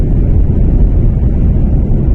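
Steady, heavy low rumble of strong wind buffeting the microphone in a snowy area, continuous and loud with no other sounds.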